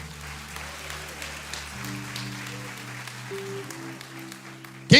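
A church congregation applauds during a sermon, a broad, steady patter of many hands filling the space for several seconds. Sustained organ or keyboard tones play low underneath, and a loud thump comes at the very end.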